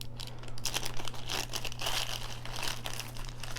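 A plastic Ziploc bag holding beads crinkling and rustling close up, continuous soft crackle for a few seconds over a low steady hum.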